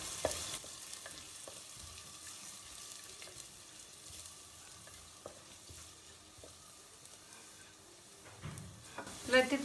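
Cumin and fennel seeds frying in a pan while being stirred, a faint steady sizzle with soft scraping strokes, closing with a louder clatter.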